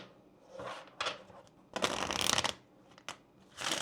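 Kipper fortune-telling cards are shuffled by hand during a tarot-style reading, several short papery riffling bursts broken by brief pauses, close and clear.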